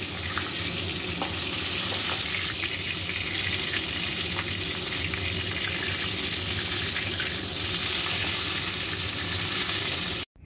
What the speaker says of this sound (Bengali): এখন বেগুনগুলোকে আরেক পাশে উল্টে দিয়ে ভালো করে ভেজে নেব।